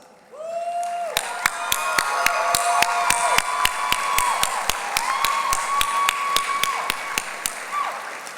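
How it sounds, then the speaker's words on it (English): Graduates at a Kapiʻolani Community College commencement applaud the faculty, building into broad clapping and cheering from a large crowd, with sharp, regular percussive clicks cutting through the applause at a steady beat. "graduates, feel free to applaud them"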